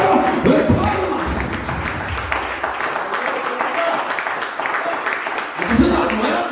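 A church congregation claps together as an offering of praise to God, a steady, dense wash of many hands sustained throughout, with voices rising over it at the start and end.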